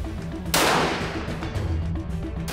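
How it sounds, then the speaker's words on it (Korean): One loud sniper rifle shot fired at a 400-metre target on an outdoor military range, an abrupt blast that decays into a lingering outdoor echo over steady low background rumble, with no voices. "400m 사격 개시."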